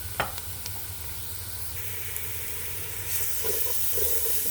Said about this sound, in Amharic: ከዛ ነጭ ሽንኩርት የተፈጨና ዝንጅብል 1 ስፑን እጨምራለሁ።